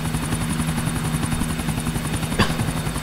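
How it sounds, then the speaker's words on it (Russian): In GTA IV, a helicopter in flight gives a continuous loud rhythmic rotor thump and engine whine, with a short sharp swish near the end and no talking. "Я начинаю вроде бы привыкать к этому вертолету."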